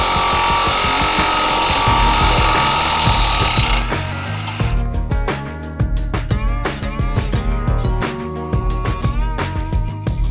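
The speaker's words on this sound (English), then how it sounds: "lower the control arm and remove the bolts to the lower shock mount" Power tool driving out bolts at the lower shock mount during a rear suspension conversion on a 2006–2011 Cadillac DTS or Buick Lucerne, a loud continuous whirring rattle that changes pitch and turns into rapid impact hammering partway through.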